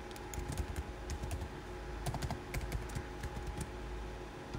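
A password typed on a computer keyboard, a quick irregular run of light key clicks, faint and close, with no talk.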